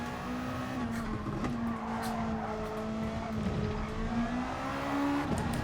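Race cars in Gran Turismo Sport at Fuji: a steady, loud engine drone with wheelspin and tyre scrabble running continuously throughout, pitch wavering slightly as the car accelerates, with no voices.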